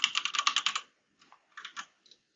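Typing text on a computer keyboard: a quick burst of about eight close key clicks, a pause, then a few scattered keystrokes and a short final pair, with no talk.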